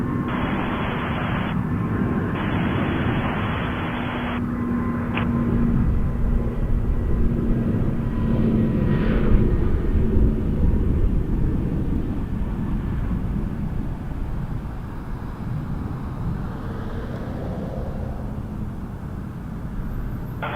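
An Air Canada airliner taking off at night from Toronto Pearson Airport, a steady, loud jet engine roar that swells and slowly fades into the distance.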